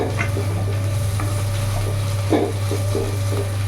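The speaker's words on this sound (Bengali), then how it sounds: "ভাজা ভাজা হয়ে এসছে, আর একটু ভাজলে আমার হয়ে যাবে।" Kharkol leaves and garlic frying in a wok give a continuous close sizzle with scattered stirring scrapes and clacks over a constant low hum.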